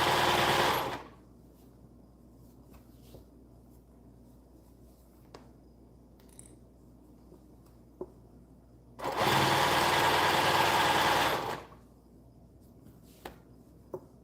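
A loud sewing machine runs in two bursts, about a second at the start and nearly three seconds later, a dense close whirring buzz separated by quiet stretches with faint clicks.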